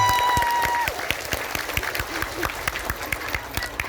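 A crowd claps steadily, a dense patter of many hands, with a brief voice and tone fading at the start.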